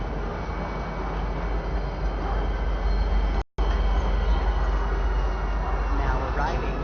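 A tram-style train pulling into a spaceport in the game Star Citizen, a steady loud rumble with low droning hum and faint squeal, briefly cut to silence midway, under an automated announcement voice.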